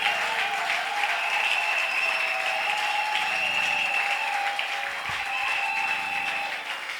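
A church congregation at an evangelical gathering applauds in sustained, dense clapping that stays steady and loud throughout, with faint voices mixed in.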